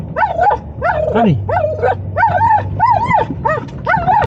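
A friendly dog in a Bronco on a woodland trail gives a run of high, whiny yips and barks, about nine close bursts in quick succession, and a person speaks briefly between them.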